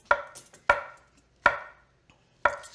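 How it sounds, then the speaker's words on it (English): A kitchen knife chops food on a cutting board in four sharp, ringing strikes at an uneven pace, close and clear with quiet gaps between and no talking. "you hear me chopping over here"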